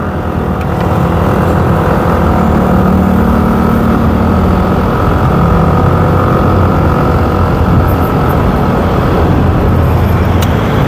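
Steady, loud road traffic rumbles beside a Petron gas station in the Philippines, with idling and passing car engines blending into a continuous low drone and no talking.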